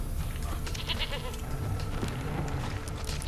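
Goat bleating in The Witcher 3, set against a steady backdrop of game ambience and low rumble, with faint broken calls scattered through a short stretch and no talking.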